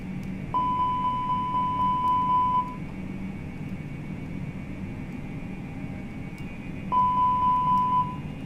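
Aircraft cockpit alarm test tones sound as two bursts of rapid, evenly spaced electronic beeps, each lasting about two seconds and separated by a long gap, over a steady hum of cockpit noise.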